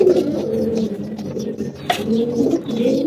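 Pigeons in a loft coo in low, rolling murmurs, close and continuous, with a brief sharper sound partway through and faint background noise.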